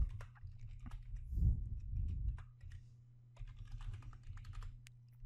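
Keys tapped on a computer keyboard while entering a password, a steady run of light close clicks with a brief louder flurry, no voices.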